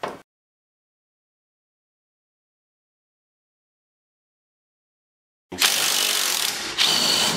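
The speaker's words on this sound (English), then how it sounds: "I'm going to take this other one loose before I pull the bolts out." Ratchet wrench clicking rapidly while loosening ball joint bolts on a 2009 Polaris Ranger 700 XP, two close, loud bursts after a long silence.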